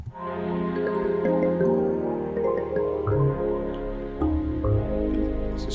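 A deep, rubbery synth bass line with wobbling, liquid movement, pulsing steadily under layered electronic music throughout.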